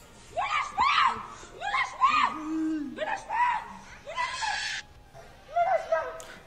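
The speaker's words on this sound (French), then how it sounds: "t'entends comment l'enfant il crie derrière?" A child screams repeatedly in a staged street scene, with rising wails and shrieks over a noisy background and other voices.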